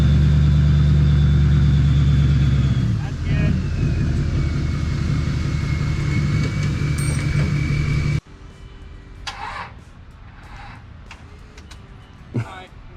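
A 24-valve Cummins diesel truck engine runs with a loud, steady low drone and a faint whine for about eight seconds, then cuts off, leaving quieter scattered knocks and movement.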